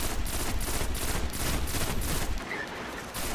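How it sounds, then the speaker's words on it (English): Rapid automatic gunfire in the video game Destiny, a steady rhythmic burst of evenly spaced shots lasting a few seconds before cutting off, loud and close. "stop shooting at me!"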